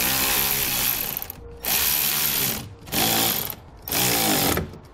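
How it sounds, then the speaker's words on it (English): A power ratchet or impact tool tightens the nut on the positive battery post terminal of a 2015 Ford Transit Connect, running in three loud close bursts of buzzing mechanical whirring separated by short pauses. "then we'll tighten the nut back up, and that'll give us our connection without damaging our factory battery post"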